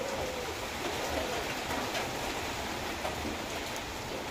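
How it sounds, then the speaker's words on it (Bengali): Heavy rain pouring steadily on a stormy, windy day, a soft continuous hiss of falling water that stays even throughout, fairly faint and without distinct individual drops. "দেখতে পাচ্ছেন প্রচুর বৃষ্টি হচ্ছে ভোর থেকে।"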